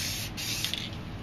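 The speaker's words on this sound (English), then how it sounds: "I'm going to spray a little bit of clear here" Clear coat is sprayed onto a painting from a can in one steady, close hiss lasting just over a second.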